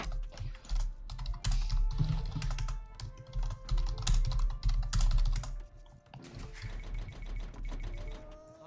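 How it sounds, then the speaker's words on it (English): A computer keyboard is hammered hard during fast typing, giving dense, loud bursts of clacking keystrokes in irregular flurries with brief pauses between. "Captain's smashing that keyboard"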